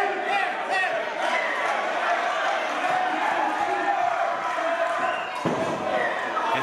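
Crowd noise at an indoor independent wrestling show fills the space loudly and continuously, a dense roar of cheering voices with occasional thuds and shouts, close and unbroken for the whole stretch.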